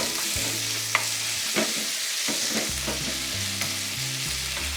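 Onion and beef frying in a hot pan, producing a steady close sizzle broken by a few soft scraping stirs.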